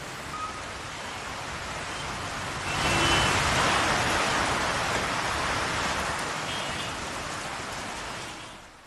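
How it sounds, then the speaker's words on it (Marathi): Heavy unseasonal rain pours steadily in Pimpri Chinchwad, a dense broadband hiss that swells louder partway through, with faint traffic underneath. "पिंपरी चिंचवडमध्ये काल दुपारच्या सुमारास काही भागात पावसाच्या जोरदार सरी कोसळल्या"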